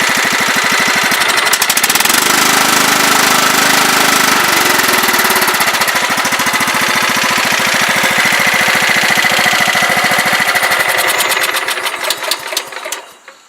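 A small engine idling after its carburetor was repaired, running with a loud, even, rapid chug close by for most of the stretch before sputtering down and shutting off at the end.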